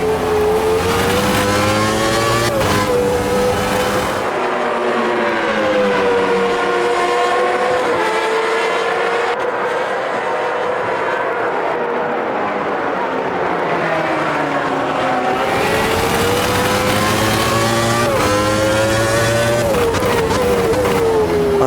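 Race cars in the Automobilista 2 sim racing game, a Formula One–era Benetton among them, with a loud continuous engine whine rising and falling as revs climb and drop through gear changes.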